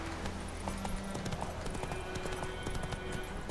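Rhythmic clip-clop of hooves from a horse galloping in The Witcher 3, steady and close, a brisk repeating beat that carries over game ambience.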